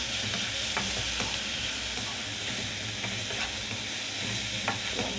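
Pepper powder is stirred through sizzling ingredients in a pan while making egg podimas, the constant close frying hiss broken by faint scrapes of the spoon.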